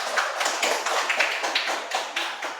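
Classmates clapping for a student's answer in a primary school classroom, a quick rhythmic round of claps in even unison beats, moderately close and without talk.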